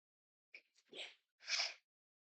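A person sneezes in a quiet room, with short breathy intakes and then two close, sharp bursts of an imitated 'achoo'.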